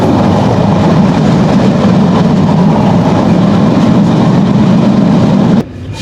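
The Jahanabad Express passenger train rolls into Kashiani Junction in Gopalganj with a loud, steady, close rumble and rail clatter that runs evenly before cutting off abruptly near the end.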